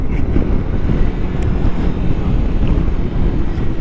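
Heavy wind buffets the microphone while riding a Kawasaki Versys-X 300 motorcycle with no windshield, a loud continuous low roar that rushes steadily throughout.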